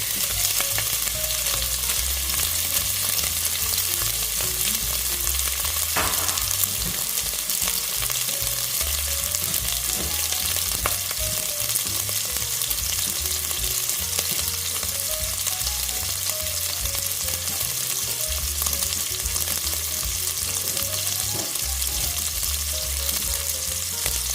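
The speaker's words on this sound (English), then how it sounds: "let's go ahead and start putting the sausage in. It don't take but a minute to heat up because that sausage, that pan is already hot." Sausage frying in an already hot pan for a jambalaya-style sausage and rice gives a continuous, even sizzle that stays close and steady throughout, with no talking.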